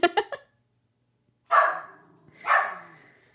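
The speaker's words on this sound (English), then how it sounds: "I have no idea what she's barking at." A dog barks indoors, first with a quick cluster of three sharp barks, then two louder, drawn-out barks after a pause, with nothing else heard between them.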